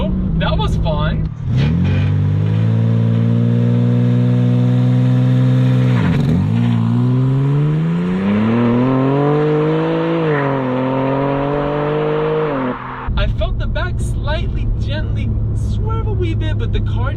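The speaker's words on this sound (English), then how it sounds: "When you do launch control, it starts off in second gear." A 2021 BMW G80 M3 on a launch-control start, pulling off in second gear: a loud, close engine roar climbs in pitch, dips briefly at a shift, climbs again, then drops back to a lower rumble.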